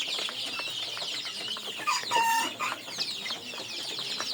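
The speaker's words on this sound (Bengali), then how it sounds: "আমার সবজি খামারে মিশরি ফার্মের দেশি মুরগির বাচ্চা রয়েছে" Desi chicks at a vegetable farm cluck and cheep continuously while pecking at feed, a dense close chorus of small chirps with a few louder calls mixed in, no talking.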